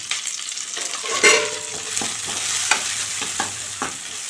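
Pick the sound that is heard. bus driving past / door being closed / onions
onions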